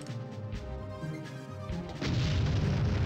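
A grenade blast from the Army Men Sarge's Heroes video game, with explosive barrels nearby: a rough burst of crashing noise that swells sharply partway through into a loud, dense boom.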